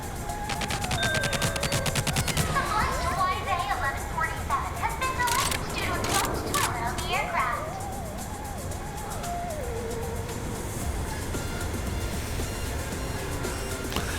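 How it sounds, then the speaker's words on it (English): Turrets in the TimeSplitters Rewind video game fire bursts of rapid gunshots, loud and clustered early, then thinning out. A voice talks over the gunfire now and then. "There's a turret. More turrets."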